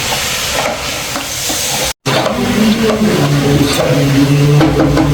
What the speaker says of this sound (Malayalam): ഉള്ളിയും കറിവേപ്പില കറിവേപ്പിൻ്റെ ഇഞ്ചി വെളുത്തുള്ളി ഇഞ്ചി വെളുത്തുള്ളി പട്ട ഏലക്കായ പട്ട ഗ്രാമ്പ് എല്ലാം കൂടെ ഇട്ട് വെളിച്ചെണ്ണ വെച്ചിട്ട് ഇളക്കിക്കൊണ്ടിരിക്കുകയാണ്